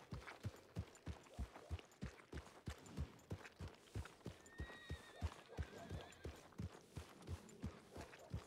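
A horse in a role-play video game trots with a steady, close clip-clop of hooves throughout and whinnies briefly midway; no voices are heard.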